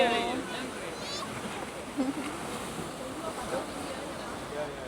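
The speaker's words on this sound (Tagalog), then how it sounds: "Mahangin kasi super dito, pero okay lang." Strong wind buffets the microphone outdoors in Taiwan, a steady broadband rush with gusty swells and a few faint distant sounds layered in, continuous across the whole stretch.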